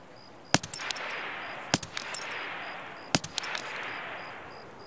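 A VSS suppressed rifle fires in Escape from Tarkov: three separate sharp shots, each followed by brief metallic clatter, spaced over a low ambient hum.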